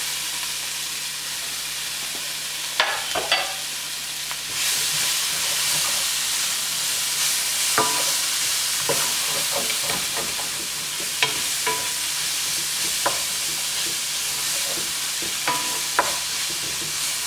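Onions saute in hot oil for a fish stew, a steady, close sizzle that rises partway through, with repeated wooden spoon knocks and scrapes against the pan.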